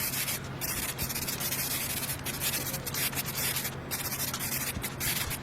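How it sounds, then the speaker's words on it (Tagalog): Light hand sanding of dried surfacer primer (UCH 210) on a car body panel, steady rhythmic rubbing strokes, close and fairly quiet, with no talking. "After matuyo ng surfacer, nagliha tayo ng bahagya para matanggal yung mga kaunting gaspang."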